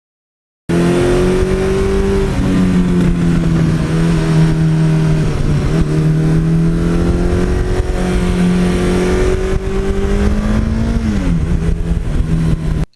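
A 1982 Suzuki GS1100E motorcycle being ridden, heard as a loud, continuous engine drone close up with rising and falling pitch as it shifts through gears, with no talking.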